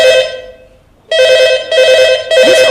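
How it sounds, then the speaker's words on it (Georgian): A telephone rings loudly and close by with a bright electronic bell tone. One ring fades out, then after a brief gap several ring bursts follow in quick succession, with no talking. "ეს ტელეფონი"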